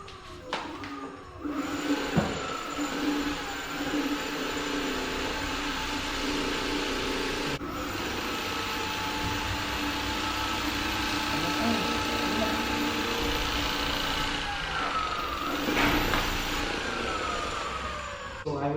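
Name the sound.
electric scooter motor running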